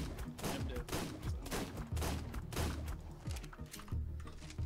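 Repeated gunshots from a gun in Ark: Survival Evolved, fired at a Megaloceros, crack out in a steady rhythm of sharp bursts over dense game sound throughout.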